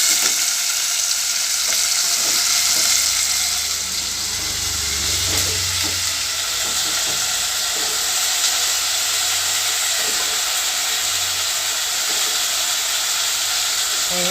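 Drumsticks frying in oil along with tomato, onion and green chili, giving a steady, close sizzle and hiss that runs the whole time without pause, with faint stirring and no talk.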